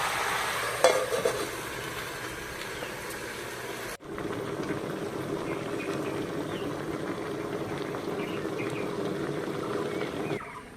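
Radish and spinach simmering under a lid in a pan, giving a steady low bubbling and hiss that runs throughout with a brief knock near the start and a short break partway through.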